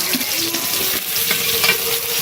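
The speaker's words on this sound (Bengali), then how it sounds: "তেল গরম হয়ে গেছে এবারে দিয়ে দেবো পেঁয়াজ কুচি টমেটো কুচি ওলকপি এবং আলু" Chopped onion, tomato, kohlrabi and potato hit hot oil in a pan, giving a steady close sizzle and hiss with a few faint clinks, no voices.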